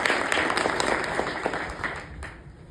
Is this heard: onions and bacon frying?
no